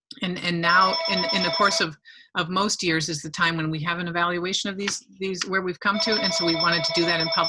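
A telephone rings twice in an online school board meeting, a bright repeating trill sounding at the start and again near the end, mixed in with a person speaking steadily throughout.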